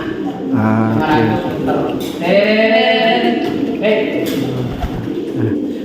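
Pigeons coo repeatedly in low, throaty calls, fairly close, with voices talking alongside.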